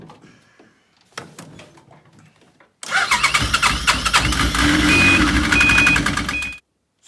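A Yamaha RS Viking Pro snowmobile's two-stroke engine, rebuilt after gearbox repair, cranks with a few clunks and pulls, then fires and runs loud and close for several seconds with a rattly buzz before cutting off abruptly.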